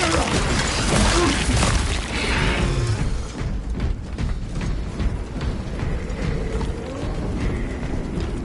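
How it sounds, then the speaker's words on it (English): Weapon reloading in the video game Space Marine II: mechanical clacks, ratcheting and a metallic crash-like impact up front, followed by quieter clicking mechanism sounds over a steady game backdrop. "Loading ammunition."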